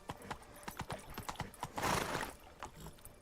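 In The Witcher 3: Wild Hunt, the horse Roach trots with clear, rhythmic clip-clopping hooves. A louder scuffling burst comes in the middle, and no voices are heard.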